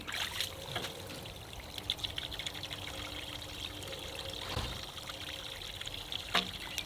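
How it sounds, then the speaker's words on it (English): Water pours and trickles out of a Ridgid wet/dry shop vac as it drains, a steady splashing stream with a few brief louder spurts, heard close and alone with no talking. "We'll drain the water"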